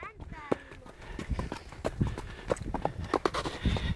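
Horses being ridden, hooves clip-clopping in a steady, quick rhythm on the ground, fairly close, while people talk and call out over the hoofbeats.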